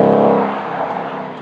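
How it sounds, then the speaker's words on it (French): A Ford Mustang GT under way, its engine drone loud and close, holding steady and then easing off slightly over a brief stretch with no talking. "voilà l'effet que ça fait de conduire la Mustang"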